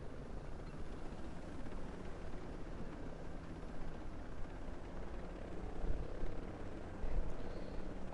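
A gunship helicopter flies in a video game, a steady dense rotor and engine drone that holds at an even level throughout with no talking.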